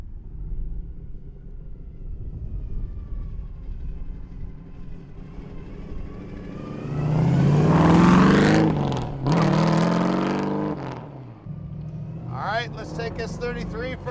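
A 1933 Ford 3 window coupe street rod drives by with a deep engine rumble that swells loud as it passes and then fades, while people talk over the motor noise.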